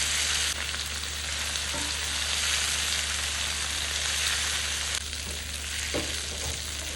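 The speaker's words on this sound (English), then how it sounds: "stirred that together, allowed it to pan fry a bit" Ingredients fry in a pan with a constant, close, dense sizzle and hiss, broken by a few faint clicks of stirring, with no voices.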